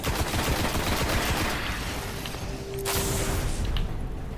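Rapid gunfire bursts from the video game Destiny, where a shotgun is in use, a dense loud barrage that thins briefly before resuming, with no speech.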